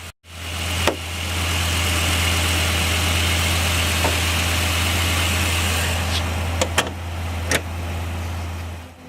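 A 2012 Lexus LFA Nürburgring Edition settles into idle after start-up, holding a steady, loud, deep engine drone broken by a few sharp mechanical clicks and knocks.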